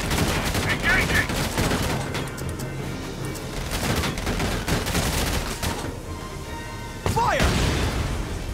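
Rapid, sustained gunfire rattles through a Valkyria Chronicles battle, a loud continuous fusillade with sharp bursts, under shouted voice lines.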